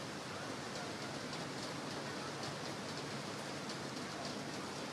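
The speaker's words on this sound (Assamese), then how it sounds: "মুখলধাৰে বৰষুণ এজাক আহিছে" Heavy rain pours down steadily over Guwahati during a dark, stormy day, a dense, loud and unbroken hiss of falling water with no voices.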